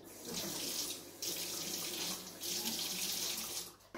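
Water runs from a kitchen tap to dissolve baker's yeast, a steady hissing stream that stops briefly twice and restarts, fairly close, with no talking.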